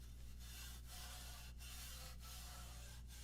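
Scotch-Brite pad scrubbing the joints of aluminum turbo pipes before welding: a faint, steady rubbing hiss broken by brief pauses between strokes, with no voices.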